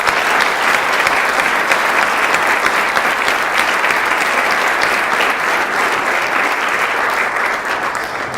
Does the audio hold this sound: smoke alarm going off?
no